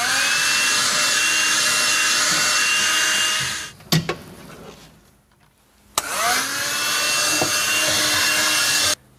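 A power drill drives screws while fixing a blind corner organiser into a kitchen cabinet: two loud, sustained whirring bursts close by, separated by a short quiet gap, each ending abruptly.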